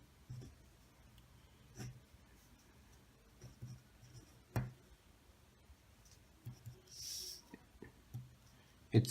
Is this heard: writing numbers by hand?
yes